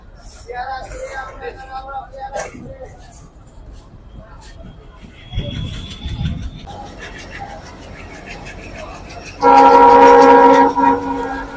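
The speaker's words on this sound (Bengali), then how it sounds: "দিগরাজ স্টেশন ট্রেন ছেড়ে যাচ্ছে" A train rumbles and clatters through Digraj station without stopping, on the Mohammadnagar to Mongla line in Bangladesh, with voices around it, then a loud horn blares near the end, drowning everything for a couple of seconds.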